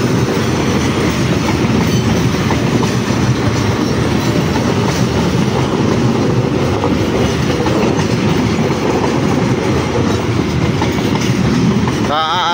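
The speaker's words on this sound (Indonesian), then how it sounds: "Ini KA Argo Parahyangan ya." The KA Argo Parahyangan passenger train rolls by up close, a loud steady rumble of wheels and carriages with faint rhythmic clatter that stays constant throughout, ending with a brief rising whine.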